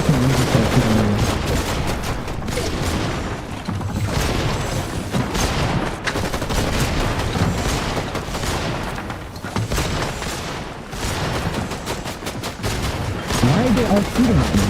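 Heavy, continuous gunfire from several shooters, dense rapid bursts and booms in a chaotic firefight, loud and close throughout, with voices and music blended in.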